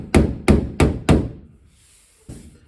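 Hammer tapping out a dent in the body panel of a VW T3 panel van: four quick, evenly spaced metallic taps, close and loud, then a pause and one softer tap.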